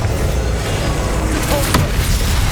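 A Confringo explosive spell blast in Hogwarts Legacy erupts in a broad, rumbling wash with a brief sharp burst partway through, under a steady noisy bed of game sound.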